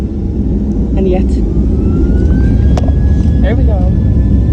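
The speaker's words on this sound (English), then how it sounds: "MH1459 going to Kuala Lumpur, and we're taking off from Langkawi." A Malaysia Airlines airliner takes off at night from Langkawi bound for Kuala Lumpur, its loud engines a steady, dense roar filling the cabin throughout with a rising whine.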